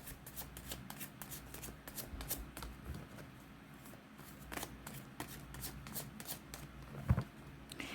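Tarot cards shuffled by hand during a reading, a quiet run of papery riffles and flicks with a soft thump near the end, close and low in level with no speech.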